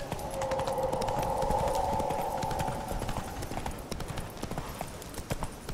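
Rapid hoofbeats of Roach the horse galloping in The Witcher 3, a fast steady clatter with a sustained tonal hum over the first half and game ambience behind it.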